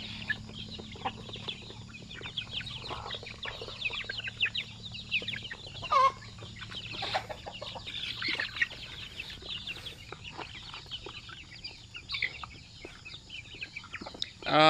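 Free-range chicks and breeder chickens in an outdoor ranging area cluck steadily near and far, with soft scattered peeps and calls continuing throughout.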